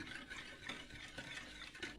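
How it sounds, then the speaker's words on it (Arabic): Powdered sugar being stirred into ghee by hand for Egyptian kahk dough, a steady soft scraping and mixing with repeated strokes, close and fairly quiet, no talking. "هندوبه كده مع السمنة"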